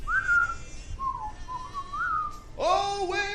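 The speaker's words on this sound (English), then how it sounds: "Now excuse me while I whistle so loud that everyone in this store will have no choice but to hear" Loud whistling in a store: a single person whistles a wavering, sliding melody of a few sustained notes, then a brighter, harmonically rich burst of whistling near the end, close and clear with no talking.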